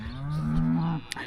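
A cow on a farm gives one long, close moo while the herd is being moved, followed by a brief click.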